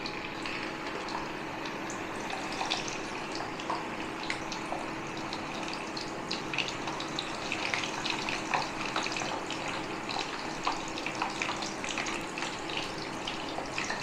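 Potato slices frying in hot white oil for homemade masala chips, a continuous dense sizzle and bubbling hiss that stays steady and close for the whole stretch, with no voices.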